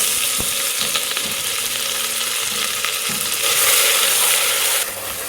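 A spice paste (vaatan) fries in oil for bhogi bhaji, with a steady, close sizzle throughout and a few brief stirring scrapes. The sizzle swells louder for a moment near the end, and nobody speaks.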